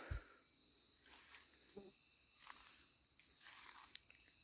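A steady, high-pitched chorus of frogs calling through the night, continuous and unbroken, with no voices over it.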